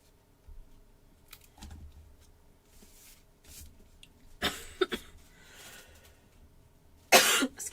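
A person coughs from a tickle in the throat, with a small cough and then a sharper, louder one near the end, against quiet paper and desk handling sounds during card-making.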